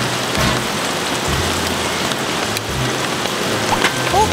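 Rain patters steadily onto the car and surroundings while camping in a car beside a valley, a close, continuous hiss of drops with a few louder splats and no talk.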